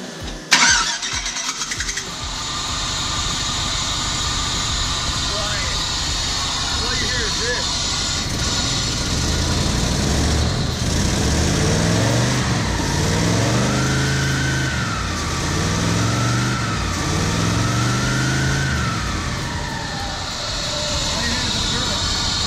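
A freshly oiled car engine cranks and catches, then runs for a while with uneven revving swells and a steady mid-pitched hum, while someone talks over it at points.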